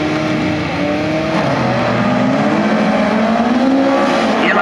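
Folkrace cars at a 2017 Vimmerby heat start accelerate together in a loud, close roar, with engine notes rising and overlapping as the pack pulls away.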